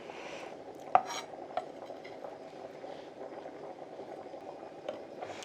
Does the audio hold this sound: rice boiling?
yes